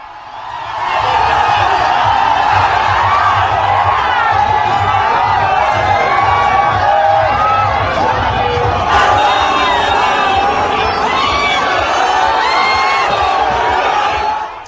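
A large crowd gathered at Yogi Adityanath's election roadshow in Bengal, roaring and cheering loudly and without pause, with overlapping shouts and chants that fill nearly the whole span.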